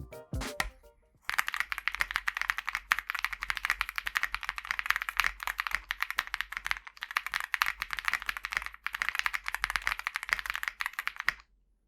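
Rapid, steady typing on a Meletrix Zoom 65 mechanical keyboard fitted with Domikey triple-shot keycaps, a dense run of close, crisp key clacks after a brief opening thump, with no talk.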